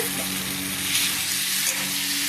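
Boiled green bananas sauté in a pan, giving a steady close sizzle and frying hiss with light stirring scrapes throughout.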